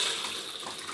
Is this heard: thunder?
no